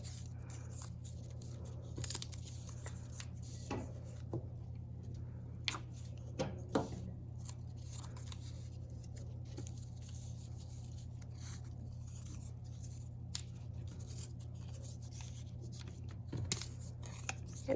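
Paper edges being trimmed for a collage: scattered soft snips and crisp paper rustles over a steady low hum, close and quiet, irregular in rhythm, with no talk.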